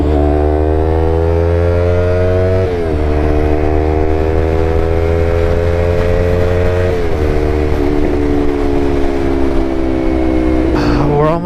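A Yamaha R3 streetfighter motorcycle with an M4 full exhaust drones loudly and steadily while riding, its engine note rising and dipping slightly through a few gear or throttle changes.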